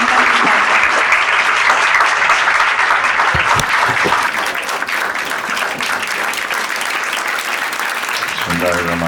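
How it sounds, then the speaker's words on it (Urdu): An audience at a motivational speech event in Pakistan breaks into loud, sustained applause to welcome a speaker to the stage, a dense wash of clapping that fades slightly toward the end. "تو اپنی بھرپور تالیوں کی گونج میں دعوت دینا چاہوں گی"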